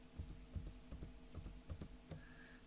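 Keys tapped on a computer keyboard, including a Shift and Tab press, come as a quick series of crisp, close clicks in an uneven rhythm, with no talk over them.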